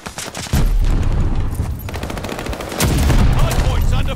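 Sustained video-game gunfire around a hardpoint under attack, with dense automatic fire that thickens into a loud, continuous roar and swells again near the end.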